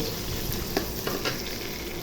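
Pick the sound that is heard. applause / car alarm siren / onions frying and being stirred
onions frying and being stirred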